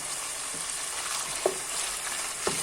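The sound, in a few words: meat and hot pepper cooking in a pan for pilaf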